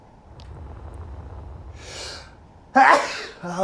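A person sneezes once, close and loud: a breathy intake, then a sharp explosive burst over a low background hum, followed by a short vocal sound.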